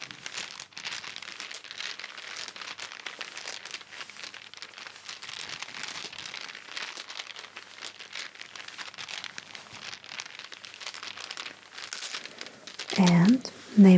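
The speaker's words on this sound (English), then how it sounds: "I'm shuffling." Soft crinkling and rustling of cards or small objects being shuffled in a quiet, gentle guessing game, a steady close dry patter that ends with a couple of brief louder bumps.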